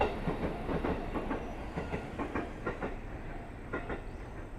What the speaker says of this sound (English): That's probably the train I came on.